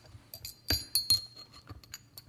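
Drinking glasses clink a few times as cocktails are poured and served at home, bright chiming taps standing out over a quiet room.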